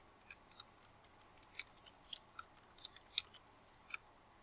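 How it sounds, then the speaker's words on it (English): Someone types an answer on a computer keyboard with a few sparse, faint clicks spread irregularly over a quiet room hiss. "so I'll type that in"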